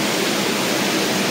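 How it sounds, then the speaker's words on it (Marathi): Floodwater rushes across a road beneath a railway bridge, a loud, continuous, close roar of flowing water with no other sounds. "बघा पूर्ण रस्त्यावरून पाणी."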